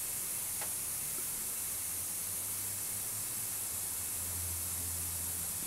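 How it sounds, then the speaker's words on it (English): An airbrush sprays Angelus acrylic leather paint onto a leather wallet, giving a soft, steady hiss of air that runs unbroken and fairly quiet throughout, with no voices. "You do need to be a little bit experienced with the airbrush if you're going to do something this small"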